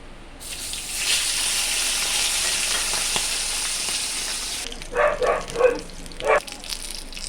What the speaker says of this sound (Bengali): আর একটা মাথাও একইভাবে তেলের মধ্যে দিয়ে ভেজে নিচ্ছি